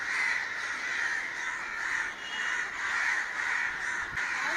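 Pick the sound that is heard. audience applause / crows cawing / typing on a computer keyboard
crows cawing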